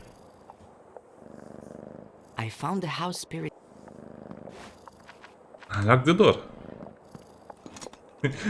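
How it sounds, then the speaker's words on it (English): A cat purring in the video game Creepy Tale 2, a soft low rumbling purr running under a man's speech, with louder bursts of talking breaking in. "Be a good kitty and let me take this little key of you."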